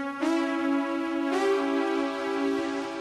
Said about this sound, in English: The diminished chord sounds like this.